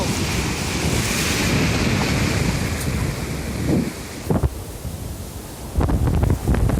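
Loud roar of sea waves breaking on the beach at Cox's Bazar, buffeted by heavy wind noise, with surges of surf toward the end.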